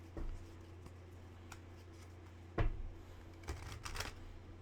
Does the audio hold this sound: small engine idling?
no